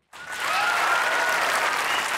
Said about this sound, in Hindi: छोटी सी ताली बजा के दिखाएं।